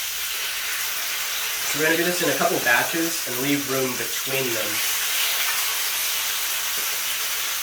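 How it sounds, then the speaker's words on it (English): Chicken fries in canola oil in a pan over fairly low heat, a steady broad sizzle and hiss running throughout while a person talks over it. "We're frying it on a fairly low heat, and what we want to do is not overcrowd this pan."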